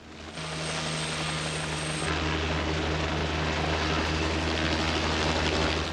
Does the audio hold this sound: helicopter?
yes